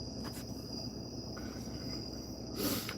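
Cicadas buzz in a steady, droning chorus at night outdoors, a continuous high insect whine that holds level throughout with no talk.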